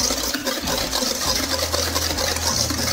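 Electric whisk beating a whole egg into cookie dough, a steady close whirring motor drone with slight changes in pitch as it works the mixture.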